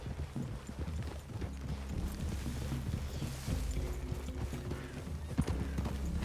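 Horse hooves clip-clopping in the Red Dead Redemption video game, a steady rhythmic plodding of several horses at a walk, fairly quiet under ambient outdoor game sound.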